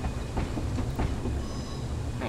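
Steady rumble and clatter of a Corris Railway train rolling along in Train Simulator 2019, a continuous wheel-and-track noise with faint rhythmic clicks, fairly close and even in loudness, with no talking.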